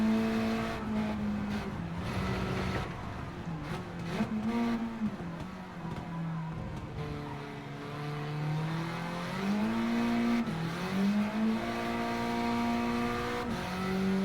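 A Honda Civic race car in Gran Turismo 7 laps Suzuka, its engine droning loud and steady as revs climb and dip through gear changes, with brief tire noise in corners.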